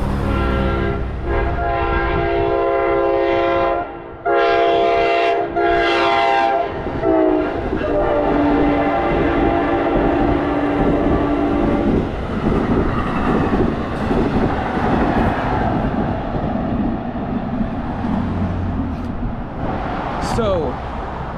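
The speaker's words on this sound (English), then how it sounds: "as you can tell from that train speeding past" An NJ Transit North Jersey Coast Line train speeds through Little Silver station without stopping, loud and close, with a blaring horn at the start and a sustained rushing rumble of wheels on rail that fills the whole clip.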